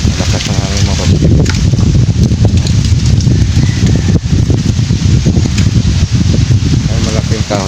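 Powerful wind rushes through trees near a big tree among graves, roaring and buffeting the microphone loudly and without pause as someone talks over it.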